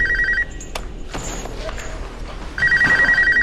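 A telephone rings in the horror film Saw, with rapid electronic trill bursts at the start and again at the end, loud and close, and a gap of muffled movement noises between them.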